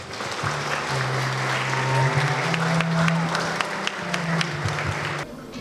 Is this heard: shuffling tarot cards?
no